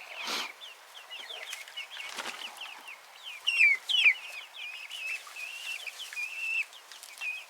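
Young chickens cluck and chirp in their outdoor run on their first time let out, a busy chorus of overlapping short calls, with a couple of louder nearby bursts and brief wing flutters early on.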